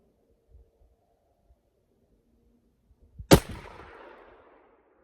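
A single sharp crack from a Tikka Roughtech rifle at a long-range range, ringing into a fading rumble after a near-silent lead-in with faint low sounds.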